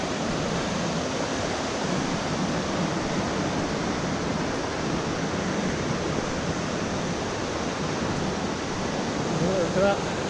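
River rushing beside the Aberglaslyn walk, a dense, steady roar of water close by that fills the whole stretch without a break, with faint speech and traffic barely audible beneath it.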